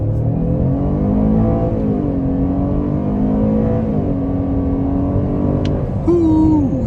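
A 2023 Chevy Traverse V6 accelerating hard after a U-turn, the engine revving up loud and close from inside the cabin, with the pitch climbing and dipping between gears, and no talking.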